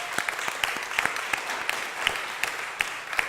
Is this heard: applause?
yes